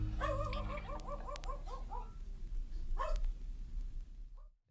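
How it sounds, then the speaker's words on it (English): Several dogs bark in a quick run of yips and barks, then one more burst a moment later, captured at the end of a track on a vinyl record and fading into near silence. "At the end, you can hear my dogs barking."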